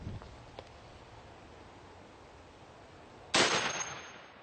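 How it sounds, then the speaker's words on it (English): A 12 gauge shotgun fires a 1 ounce slug at a small titanium plate, giving a single sharp, loud blast near the end after a few seconds of quiet outdoor hiss. "who doesn't want to see a 12 gauge firing a 1 ounce slug at that little plate over there?"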